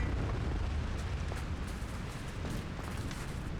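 A Confringo spell in Hogwarts Legacy erupts into a deep, rumbling explosion that fills the moment with a heavy, sustained roar, no talk over it.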